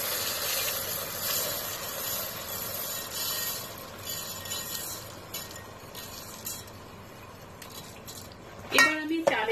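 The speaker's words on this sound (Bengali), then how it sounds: "এই চালটা এখন আমি এই ঘি তেল মিক্সের ভিতর দিয়ে দিচ্ছি।" Washed, drained chinigura rice poured into a hot mix of ghee and oil, a hissing sizzle with light clinks of utensils, ending in a louder burst of clattering against the pot.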